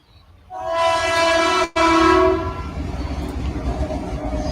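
A loud train passes on a line about ten meters away. Its horn blares in long, strong blasts, then gives way to a rumbling, rattling roll of wagons that carries on.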